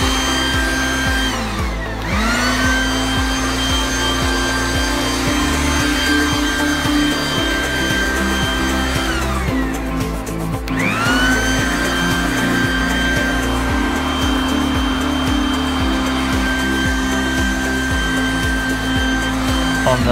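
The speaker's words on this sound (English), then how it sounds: "I'm presenting the blower." A loud garden leaf blower and vacuum runs continuously up close with a steady whining drone, its pitch dipping briefly twice before recovering.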